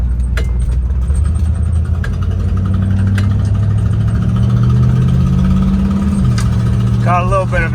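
A 1961 Plymouth Belvedere's 318 Poly V8 idles steadily with a low rumbling drone, accompanied by ticking and puffing from an exhaust leak.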